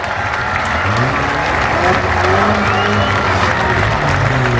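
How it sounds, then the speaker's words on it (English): Grandstand crowd at a county demolition derby applauding and cheering loudly, a sustained roar of clapping mixed with shouts and low engine rumble, while an announcer talks over the top. "How about giving all these guys a big round of applause?"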